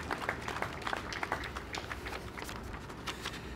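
Audience applause at an Olympic torch event in Zagorje, a quiet, distant patter of scattered claps running steadily through the whole stretch.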